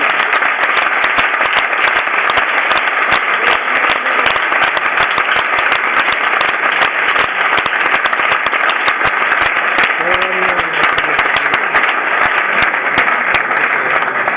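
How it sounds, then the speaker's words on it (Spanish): Congregation in a church applauding for the Lord, dense sustained clapping from many hands filling the space, loud and continuous throughout with a brief voice or cheer rising in the middle. "Fuerte ese aplauso para el Señor."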